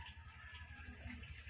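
Water pouring into a washing machine to add rinse water for fabric conditioner, a steady, continuous gushing rush, close and loud, with no talk.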